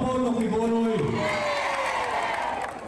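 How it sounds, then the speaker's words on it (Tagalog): A large crowd in Davao roars and shouts in support of Pastor Apollo Quiboloy, a dense sustained wall of cheering and whoops, with voices rising and falling throughout before tapering slightly at the end. "Narinig nyo ho yung hiyawan na yon."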